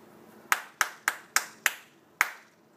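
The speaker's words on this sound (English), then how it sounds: "And can you clap?" A child claps hands during a school makeup class, with seven crisp, separate claps spaced in a fairly even rhythm close to the mic over a quiet background, with no talk.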